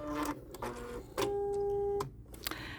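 A Bernette B-77 sewing machine runs in two short bursts of stitching, each a steady mechanical whir at close range, with small clicks and pauses between them and no talking.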